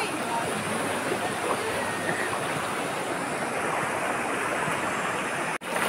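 Continuous rush of cold, clear flowing river water, steady and full, heard close by with a brief dropout near the end.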